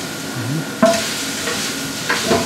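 Kangaroo meat browning in a pot over high heat, a continuous close sizzle with a couple of sharper scrapes and clinks of a utensil stirring against the pot, no voices.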